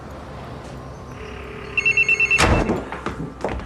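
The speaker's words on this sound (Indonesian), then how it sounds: "Yang ternyata suara tinut-tinutnya dari kamar, Casey tak membawa HP-nya" Mobile phone ringing in a bedroom, a short beeping ringtone with rapid pulsed electronic tones, followed by a heavy thump and some scraping nearby.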